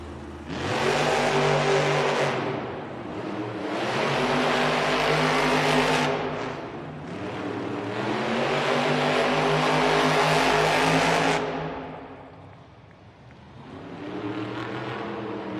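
Monster truck engines, Monster Mutt Dalmatian and Grave Digger, rev hard in an arena event in repeated loud surges. The roaring swells rise and fall over several seconds, with a brief dip before climbing again.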